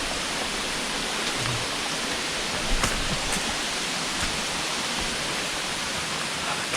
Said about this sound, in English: The small waterfall. It's smaller than this one.